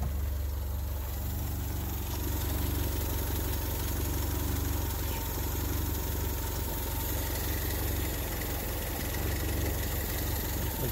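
A 1979 Honda Civic with its 1200 engine idling warm after a short drive, running slightly rough and in need of a tune-up, with a steady low rumble that holds loud and close throughout.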